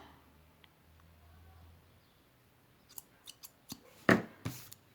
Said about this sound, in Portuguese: Vou só cortar o fio.